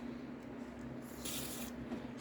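Blaster lubricant sprays from an aerosol can onto a sticking part of a Weaver's Delight loom, a brief soft hiss heard close and fairly quiet, with no talk.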